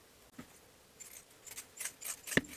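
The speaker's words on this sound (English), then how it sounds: "Trim this seam allowance using pinking shears if you have them." Pinking shears trim a shirtdress collar-stand seam allowance, giving a few quiet, scattered snips that end in one sharper, louder cut near the finish.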